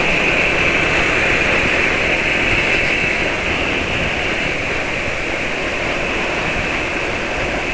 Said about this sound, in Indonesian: Suara motor ya masih terdengar normal, nggak terlalu tinggi, nggak terlalu rendah.